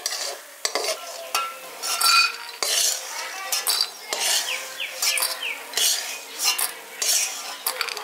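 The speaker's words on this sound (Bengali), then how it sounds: "বড়িগুলো এখানে ভাজা হয়ে গেছে, এবার এগুলো আমি তুলে নিচ্ছি।" Fried lentil dumplings (bori) being scooped out of a pan of oil, with repeated metallic scrapes and clinks of a spatula against the pan over a light background sizzle, near and fairly loud.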